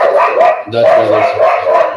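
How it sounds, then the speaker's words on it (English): A pet dog barking excitedly indoors on a stormy night, short repeated barks coming through beneath steady talking that fills most of the clip. "Do you guys hear that? That's our dog going crazy"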